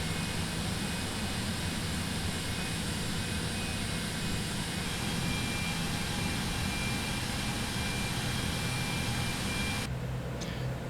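Airliner taxiing in Microsoft Flight Simulator 2024, with a steady, loud jet engine drone and rumble continuing without change for about ten seconds before the sound thins out at the very end.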